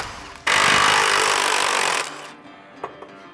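A power impact tool loosening suspension bolts on a truck during a coil-over kit install, one loud sustained burst of about a second and a half that winds down, followed by a couple of faint clicks.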